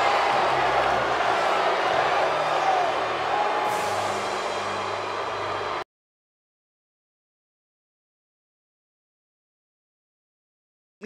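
A live crowd in a wrestling arena cheers and roars after a one-on-one match, a loud, dense wall of voices that holds steady and then cuts off abruptly into silence.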